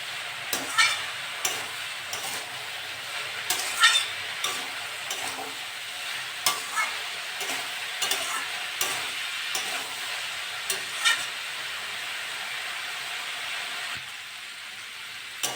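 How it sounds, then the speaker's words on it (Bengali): Papaya with turmeric and salt stirred and fried in a pan, a continuous close sizzle broken by regular scraping spatula strokes every second or so, easing off near the end. "এটা নেড়ে চেড়ে ভেজে নেবো"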